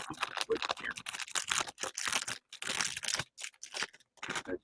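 A plastic bag of Lego pieces crinkles and rustles in repeated close bursts, broken by short pauses, with no talking.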